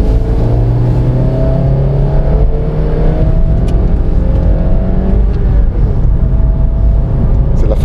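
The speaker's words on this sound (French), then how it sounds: "Accélérer ici pour montrer ce qu'il y a dans le ventre." A Honda Jazz engine pulling hard under acceleration, heard from inside the car: a loud, continuous rising drone that climbs in pitch through the gears with a steady road rumble beneath.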